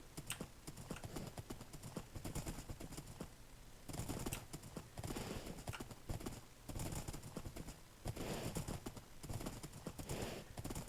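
Horse hooves clip-clop steadily in a video game at early evening as the sun goes down, a continuous rhythmic trot under busy game ambience and music, fairly quiet overall.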